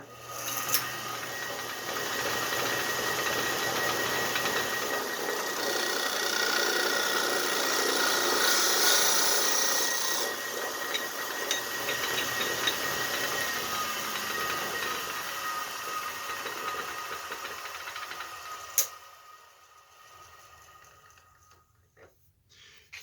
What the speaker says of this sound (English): Now I could go ahead and bore down as far as I want to with this setup